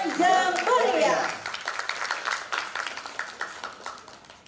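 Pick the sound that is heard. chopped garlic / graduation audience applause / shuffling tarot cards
graduation audience applause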